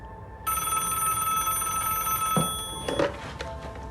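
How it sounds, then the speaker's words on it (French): A telephone bell rings in a steady electric trill starting after a brief pause, fairly close and clear over a low room hiss, with a few clicks near the end. "3 semaines plus tard, mon téléphone sonnait."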